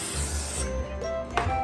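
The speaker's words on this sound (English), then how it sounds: "I'm going to spray the paddle with NoStick spray" Nonstick cooking spray spritzed onto a stand mixer paddle, a brief hissing burst of aerosol at close range, ending with a quick second puff.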